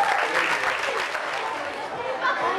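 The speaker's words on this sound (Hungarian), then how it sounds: "Nagy tapsot!" Children and adults at a school carnival costume party clap together after a magic act, a steady burst of applause lasting throughout with faint chatter mixed in.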